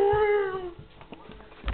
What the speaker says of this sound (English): Ewan, you're a funny kitty